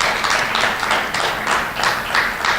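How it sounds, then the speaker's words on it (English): Round of applause for the winner of a middle school spelling bee, steady clapping from a crowd filling the room with rhythmic, bright bursts throughout. "Round of applause."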